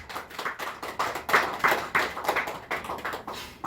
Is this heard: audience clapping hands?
yes